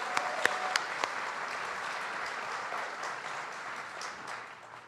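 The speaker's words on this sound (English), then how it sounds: "Let's give her another round of applause." An audience applauds at an event with Vice President Harris, a dense, steady wash of clapping with a few sharper claps early on, sustained for several seconds before tapering slightly.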